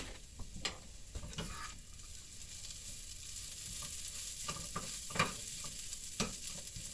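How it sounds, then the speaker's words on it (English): Dehydrated eggs fry with potatoes in a pan, giving a soft, steady sizzle broken by scattered stirring scrapes and light taps, fairly faint, with no talk. "sprinkle them in there and let them kind of fry up with the potatoes"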